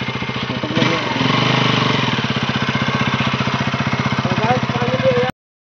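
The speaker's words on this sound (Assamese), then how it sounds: "হিমাংশু ভাইৰ বাইকখন আজি মই চলাই আছো" A KTM Duke 390 motorcycle engine runs close up, its steady rapid thumping pulse holding throughout while riding, ending abruptly.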